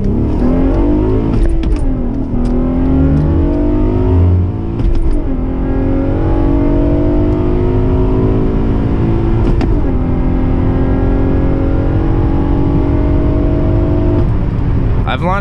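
All-wheel drive 6-speed manual Acura TL launching, a loud engine revving and pulling hard through rising gears with shifts and a sustained strained drone, heard from inside the car.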